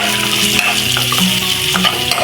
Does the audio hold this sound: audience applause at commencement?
no